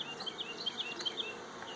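Queenless honey bees buzzing steadily at an open hive, a soft continuous hum with bees flitting close by in short bursts.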